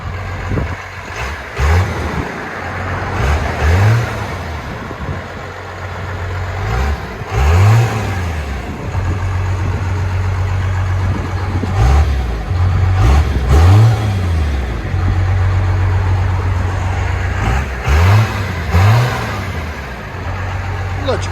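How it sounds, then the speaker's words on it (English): A 1997 Dodge Ram with a 5.9L Cummins diesel and a Magnaflow 30-inch muffler, revved repeatedly from idle in rising and falling pulls every few seconds, loud and close, with people talking over it. "MAGNAFLOW 30-inch muffler. That don't sound too bad."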